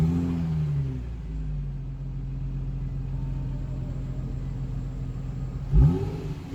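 An Infiniti G35 sedan pulls out onto the roadway, its engine rumbling low and steady from inside the cabin, with a brief surge of revving near the end as it accelerates; no talking.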